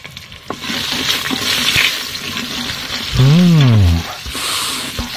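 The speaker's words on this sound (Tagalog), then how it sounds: "Then igigisa lang natin ang lahat ng mga spices." Steady sizzling and stirring of spices frying in oil in an Instant Pot, with a loud harmonic scrape or squeal midway.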